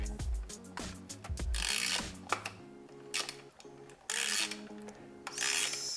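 A 5.5 socket wrench tightens a small screw on a battery, giving bursts of quiet ratcheting clicks and scraping between brief pauses, close and faint.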